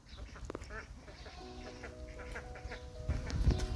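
Ducks quacking in a small group, with several nasal calls over a low rumbling background and some faint voices.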